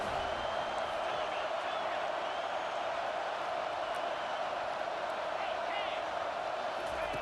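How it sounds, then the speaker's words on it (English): A home stadium crowd roars in the college football video game College Football 25 on a third-down defensive stand, a steady, far-off wall of cheering that holds at an even level throughout. "Here comes this home crowd as the defense tries to get off the field on 3rd down"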